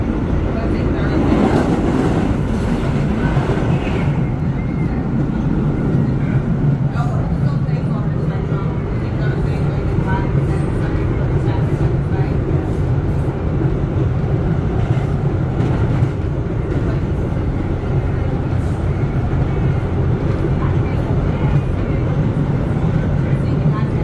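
A Kawasaki R211S train on the Staten Island Railway runs as a Tottenville local, a steady, loud interior rumble with rolling low-frequency drone and occasional clunks throughout.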